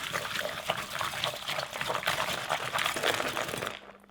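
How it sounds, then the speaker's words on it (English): Chilled egg whites for a clear tomato soup are whisked briskly in a bowl until frothy, giving a continuous wet, rapid slapping and swishing sound, close and steady, that stops abruptly near the end. "And apparently what I do now is whisk this up."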